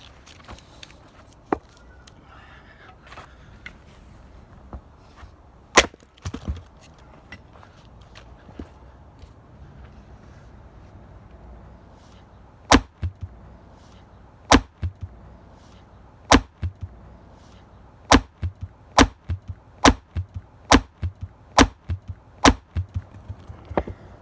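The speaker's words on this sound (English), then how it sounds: "Let's do some chopping." Firewood being chopped with a series of sharp, splintering strikes; a few scattered blows early on, then a steady run of about ten loud, evenly spaced chops near the end.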